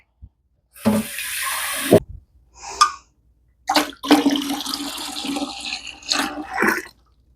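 Hot tap water poured into a container to make homemade laundry detergent, coming in several separate gushing bursts with short pauses between them, near and fairly loud.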